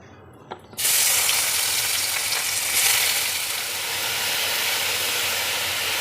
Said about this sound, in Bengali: আর একটু তেল দিয়ে আমি এঁচোড়টাকে ভেজে নেব।